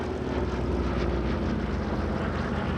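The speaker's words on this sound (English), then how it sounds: "that Dakota just touching down" Douglas DC-3 Dakota piston-engined airliner touching down at an air show, a loud, steady propeller and engine roar close by, broadband and unbroken throughout.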